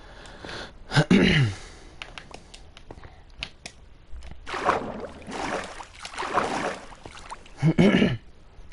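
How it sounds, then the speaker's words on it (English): Repeated throat clearing from one person, short harsh bursts near the start and end, with a longer rough stretch in the middle, heard close and alone without speech. "Sorry about my clearing my throat over and over."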